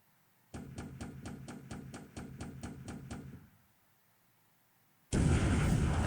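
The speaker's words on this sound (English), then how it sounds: "One more useless bomb hit on Arizona." Bomb hit on the battleship Arizona in the naval war game War in the Pacific, a rapid series of about a dozen evenly spaced sharp impacts followed by silence, then a loud, sustained blast of noise.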